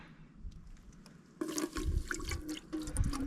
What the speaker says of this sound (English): I'm going to put in about 3/4 of a cup of water.